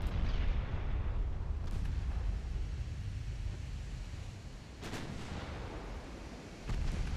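Naval gunfire and torpedo hits in Ultimate Admiral Dreadnoughts, a constant roar of sea and battle with several separate heavy booms spaced out over the rumble.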